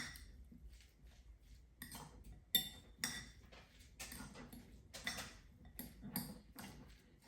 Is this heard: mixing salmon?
yes